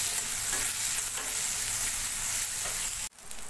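Onions with a little salt frying in a pan, giving a loud, close, continuous sizzle with faint stirring, cut off abruptly near the end before the hiss resumes more softly.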